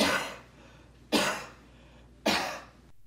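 Three separate coughs, each a short, rough burst about a second apart, fairly soft and near, with quiet pauses between them.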